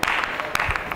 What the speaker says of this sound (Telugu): కానీ ఇక్కడ కూడా క్లాప్స్ వినిపిస్తున్నాయి.